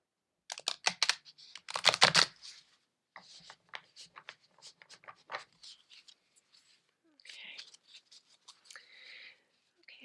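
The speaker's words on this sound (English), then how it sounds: "I'm going to start shuffling the deck to pull our card for today." A deck of oracle cards is shuffled by hand, giving quick bursts of papery riffling and soft slapping at close range, with short pauses between rounds of shuffling.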